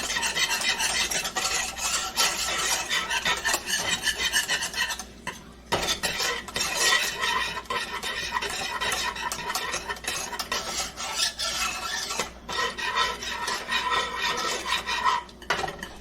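A spoon stirring lemon juice into a sugar mixture in a pot, continuous scraping and clinking of metal against the pan, close and busy, with a brief pause partway through and no talk.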